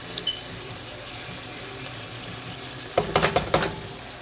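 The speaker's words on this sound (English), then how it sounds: "add in the beans, because of course they take the longest to cook. And you just pour it all in, sauce and all." Canned kidney beans in sauce are poured into a pot of chili, a short burst of wet glugging splashes near the end after a low, quiet background sizzle.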